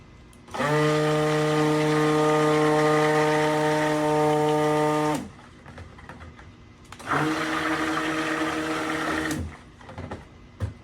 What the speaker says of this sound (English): I'm actually going to hit with my stick blender because that makes a truer white.